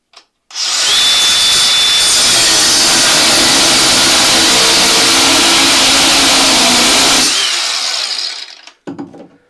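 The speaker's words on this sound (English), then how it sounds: "Looks like it's going to be a grinder." An angle grinder cuts through a bolt aboard a sailing yacht under restoration, a loud, close, continuous high whine that runs for several seconds before stopping abruptly and winding down.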